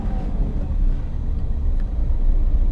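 A car pulls away in second gear while the clutch is eased out, giving a steady, close, low engine rumble with no talk over it.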